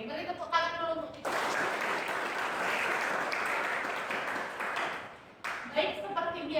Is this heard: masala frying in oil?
no